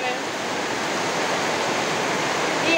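Heavy rain pours down steadily outdoors as a dense, even hiss under an overcast sky, holding at the same loud level from start to finish with no talk over it.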